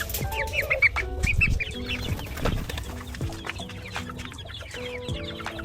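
Farm chickens, including young birds of a type kept for cockfighting, cluck and squawk in a busy, overlapping chorus, with repeated close calls over a steady background of more birds.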